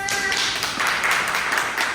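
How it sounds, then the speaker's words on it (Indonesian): Classmates in a school microteaching class give brief applause for a fellow student, a dense patter of claps filling the room at steady loudness, with some voices mixed in. "beri tepuk tangan untuk temannya."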